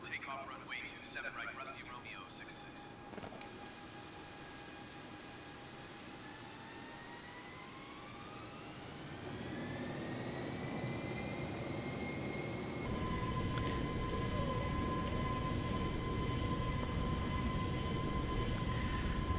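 An airliner's jet engines spool up on the takeoff roll on runway 27 right in Microsoft Flight Simulator, building from a steady hum into a louder, rising whine with tonal pitches climbing, while radio voices talk over it.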